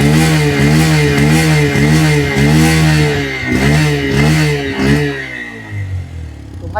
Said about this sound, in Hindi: इसके आप एग्जॉस्ट साउंड एक बार चेक कर ले आप